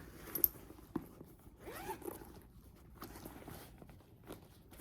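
A zipper on a Heshe purse pocket is pulled open and shut in a few quick, close, rasping strokes, with light handling noises of the bag between them.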